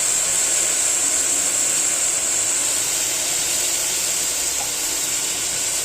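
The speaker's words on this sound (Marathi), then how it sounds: "हे मूग चांगले तेलामध्ये फ्राय होऊन द्यायचं" Moong beans frying in hot oil in a pan give a steady, even sizzling hiss that runs throughout with no break.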